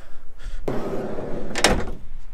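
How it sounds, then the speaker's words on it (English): A sliding door on a Dodge Ram ProMaster van is worked with two solid, rumbling thuds about a second apart, sounding close and loud, with no talking. "Sliding door and then two back doors."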